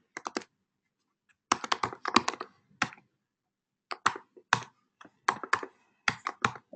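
Someone types in quick bursts on a computer keyboard while editing code, with clustered key clicks separated by short pauses and no talking.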